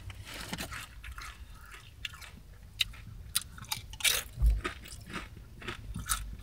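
Doritos tortilla chips are bitten and chewed in close, crisp crunches. The bites come in irregular bursts with short pauses between them, and no speech is heard.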